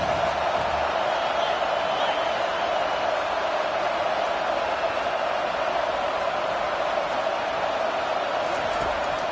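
Steady roar of a large stadium crowd in NCAA 25 college football, a broad continuous wash of cheering and noise holding at an even level throughout, with commentary running over it.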